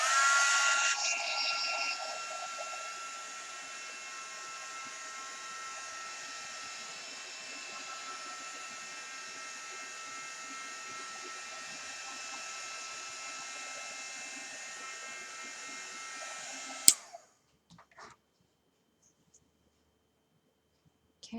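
Hair dryer blowing on acrylic paint, a steady faint whooshing hiss that runs for about seventeen seconds, then cuts off with a click, leaving near silence.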